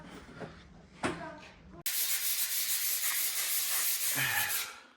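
Someone sands a repaired wooden swing corner, a steady, loud abrasive hiss that starts abruptly and runs for a few seconds after some soft handling noises and a brief voice.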